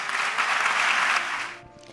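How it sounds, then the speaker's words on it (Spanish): Applause from a theatre audience at a Holy Week proclamation event at the Gran Teatro, a dense, steady clapping wash that fades out sharply near the end. "Así se ganó el aplauso del público asistente al Gran Teatro"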